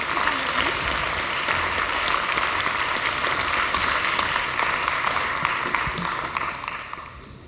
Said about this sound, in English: An applause for Ute Schäfer,